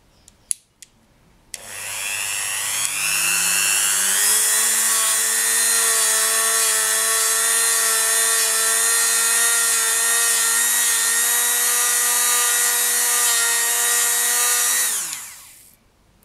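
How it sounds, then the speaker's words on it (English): A Dremel 3000 rotary tool fitted with a handmade buffing wheel buffs polymer clay. The motor spins up with a rising whine, holds a loud, steady high-pitched drone for about twelve seconds, then winds down and stops, close by with no talking. "So I'm using a Dremel 3000 with a handmade buffing wheel"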